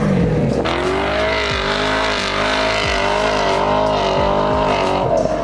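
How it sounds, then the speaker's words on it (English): A car doing a burnout in the street holds its engine at high, steady revs while the spinning tires hiss and squeal. The sound is loud and close and runs continuously for several seconds. "all of a sudden now he's doing a burnout"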